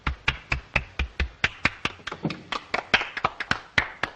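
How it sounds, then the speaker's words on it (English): A single pair of hands claps about twenty times in a quick, slightly uneven rhythm, close and crisp, each sharp clap standing out against a quiet background without voices. "Applaud."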